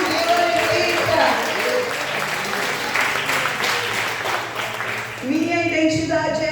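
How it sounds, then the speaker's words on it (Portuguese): Worshippers in a church applaud during a Portuguese-language sermon; a voice speaks at the start, then loud, dense clapping fills the middle before talk resumes over it near the end. "Aplaude o Senhor Jesus e glorifica"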